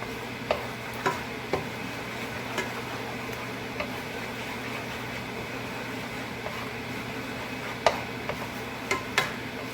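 An egg cooks in butter in a pan for Spam fried rice, a soft steady sizzle broken by irregular light clicks and taps of a utensil stirring against the pan.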